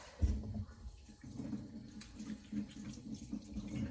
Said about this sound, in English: now with all that chopped up, I'm going to wash my hands